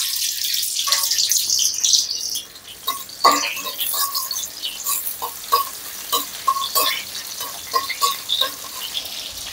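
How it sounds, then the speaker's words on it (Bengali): Garlic sizzles in four to five tablespoons of hot oil in a wok, a continuous crackling fry broken by the clatter and scrape of stirring, close and fairly loud. "তারপরে তেলটা একটু গরম করে এর মধ্যে রসুনগুলো দিয়ে দিলাম।"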